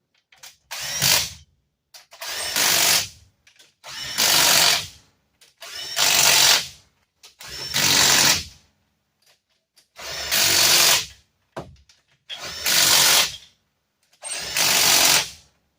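An impact wrench hammers the cylinder head bolts onto a Geo Metro three-cylinder engine in about eight loud, close rattling bursts, each lasting roughly a second, separated by short pauses.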